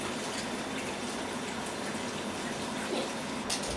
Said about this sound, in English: Add some cold water on top to cool it down.